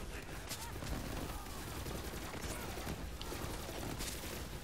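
Rapid gunfire from a weapon in the video game Borderlands 3 dealing cryo, fire and corrosive damage in one shot, dense sustained bursts running throughout with faint voice traces underneath.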